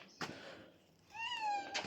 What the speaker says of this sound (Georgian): შეშვი კატას